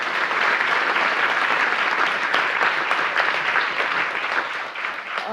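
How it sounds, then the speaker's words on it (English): A live audience at a spiritual talk breaks into a round of applause, steady dense clapping that fills the whole stretch at close, even loudness with no talk over it. "can give her a round of applause here for the first time."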